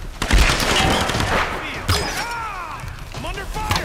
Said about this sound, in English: I'm under fire. Shooting from the side.